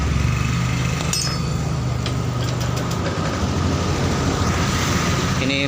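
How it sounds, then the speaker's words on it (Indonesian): Fuel-injected Honda Beat scooter engine idles steadily after a cold start, a continuous close, loud motor hum with no talk over it. "Ini motornya lagi ke dalam keadaan menyala."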